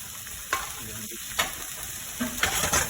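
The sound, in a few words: cabbage frying in melted butter in a pan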